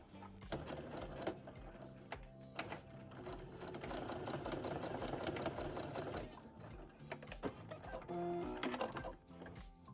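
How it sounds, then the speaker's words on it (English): A sewing machine stitches the pocket facing on a denim jacket with a steady, faint mechanical whirr, pausing briefly a few times before running on. "you're going to stitch under 1/4 inch on each sides of the pocket facing"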